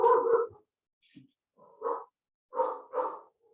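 A pet dog barks in the background indoors, giving about four short, separate barks with quiet gaps between them.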